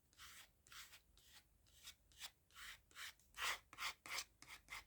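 A card scraping across thin layers of paper napkin, heard up close and quiet as about a dozen short rasping strokes in a quick, uneven rhythm, growing louder toward the end.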